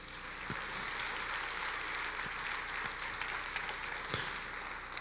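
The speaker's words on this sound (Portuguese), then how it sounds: "Vamos dar uma salva de palmas para o Senhor, Ele merece." A church congregation claps during a worship service, sustained and fairly distant, with a few sharper individual claps standing out over the dense, even patter.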